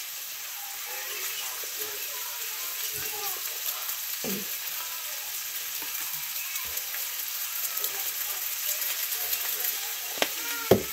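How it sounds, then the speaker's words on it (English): Steady sizzling of kielbasa sausage frying in a pan, a continuous crackly hiss with occasional louder pops and clinks, no talking. "I don't know if you guys can hear that sizzling, but I'm cooking kielbasa as well."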